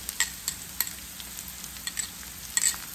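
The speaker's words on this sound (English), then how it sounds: "I'm going to add the garlic." Roasted garlic goes into a pan with browning onion for a salmon and kale dish, and a faint steady sizzle carries a few light stirring clicks.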